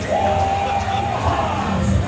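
A live pro wrestling crowd cheers for fan favourite Bobby Wisheart, with a steady roar of voices, scattered whoops and shouts, and one drawn-out yell standing out near the front.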